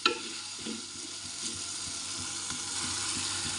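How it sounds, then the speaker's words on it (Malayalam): Tomatoes with salt sizzling and frying in a hot pan for a Kerala-style moru curry, a steady close crackle with occasional stirring taps and clinks, no voices. "തക്കാളി ഇതിൽ കിടന്നിട്ട് ഒന്ന് കുക്കായി വരുന്നതിനായിട്ട് വെയിറ്റ് ചെയ്യാം."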